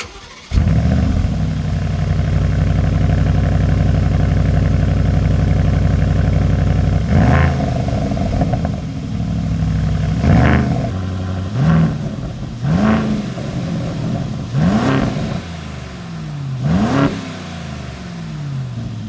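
A new Aston Martin Vantage engine starts and settles into a loud, steady idle, then gives a series of sharp throttle blips, each rev rising and falling back, heard close up with no talking.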